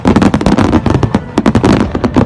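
Diwali fireworks and firecrackers bursting in rapid, irregular succession, loud and close, a dense crackling barrage of sharp pops with no voices.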